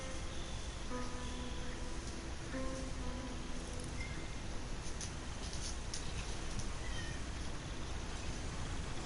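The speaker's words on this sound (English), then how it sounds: "What are you meowing about?" A cat meows several times inside the Red Dead Redemption video game, short tonal calls standing out over a dense, steady hiss of game ambience.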